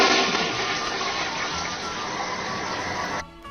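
A toilet flushes in one loud, steady rush of water that lasts about three seconds and then cuts off sharply, leaving a faint trickle behind.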